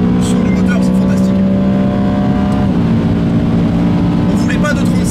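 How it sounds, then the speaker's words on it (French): BMW M3 E92 on a racetrack, its engine droning loud and continuous from inside the car, pitch holding steady and then dipping slightly as revs change, heard on its own without talk. "Le son du moteur c'est fantastique."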